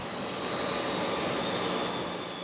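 A Grumman A-6 Intruder jet aircraft engine roars in a steady, loud, broadband rush with a faint high whine, continuous throughout with no voices.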